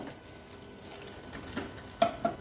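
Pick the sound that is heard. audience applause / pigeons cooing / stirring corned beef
stirring corned beef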